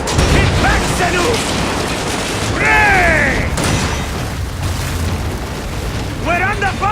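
Booming cannon fire during a ship battle in Assassin's Creed Origins, heard under constant battle noise and wind, with shouted voices and high whistling sounds breaking through.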